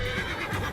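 In Mount and Blade II: Bannerlord, a horse struck by an axe lets out a short, loud neigh, a single close whinny lasting under a second.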